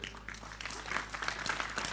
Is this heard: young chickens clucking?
no